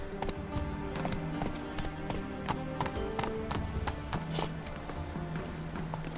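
Roach, a horse in the video game The Witcher 3, gallops with rapid, steady hoofbeats clattering on hard ground, accompanied by a faint whinny and background game ambience.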